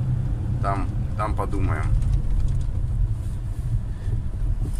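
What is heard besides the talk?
car driving to the parking lot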